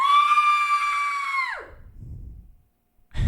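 A woman's single long, high blood-curdling scream, recorded for a Halloween ghost projection, holding steady before dropping sharply in pitch and trailing off, followed by brief low rustle, silence, and a sudden thump.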